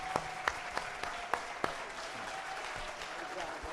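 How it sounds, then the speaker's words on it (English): An audience applauds after a panel conversation at a church event, with a few loud separate claps standing out early over a softer crowd wash. "Let's give these brothers a big round of applause for this conversation"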